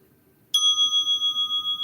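A meditation bell is struck once and rings out clear and bright, its tone holding steady with a gentle, pulsing shimmer as it slowly fades.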